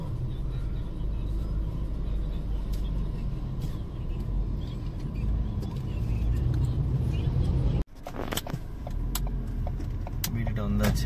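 Steady car traffic on a Dubai road heard from inside a moving car, a constant rumbling drone with a brief dropout near the end, then the road noise returns with light clicks and rattles.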